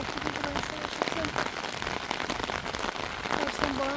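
Heavy rain pours down in Iran, a dense, loud, continuous hiss of drops drumming on surfaces, with faint voice-like sounds beneath it.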